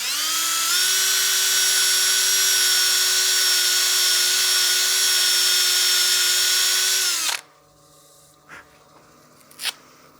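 Sandpaper at around 220 grit pressed against a turned wooden coin box spinning on a lathe gives a loud, steady high whine with bright harmonics for about seven seconds. It then cuts off abruptly, leaving quiet room tone and a couple of faint knocks.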